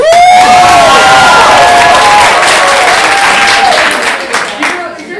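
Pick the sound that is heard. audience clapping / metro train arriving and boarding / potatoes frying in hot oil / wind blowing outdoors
audience clapping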